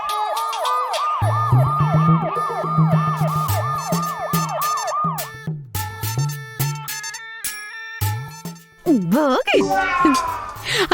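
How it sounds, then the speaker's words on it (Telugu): A wailing police siren rising and falling in steady cycles, loud and close, breaks off into scattered voices and talking, then a brief swooping siren tone returns near the end. "పోలీస్ సైరన్ వినపడింది"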